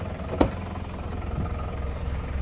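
Car engine misfiring while running, heard as a steady low, uneven idle rumble with one sharp knock near the start, close and fairly quiet with no talk.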